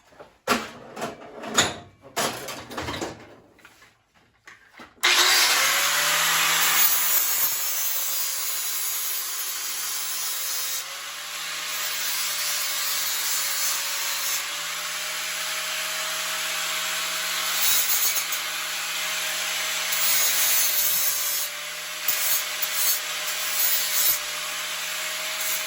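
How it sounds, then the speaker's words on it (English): A power sander runs continuously to smooth the wooden frame of a quarter-scale John Deere 4020 model, with a steady loud whine after a few knocks and handling sounds at the start. "I'll just sand it smooth real quick down here."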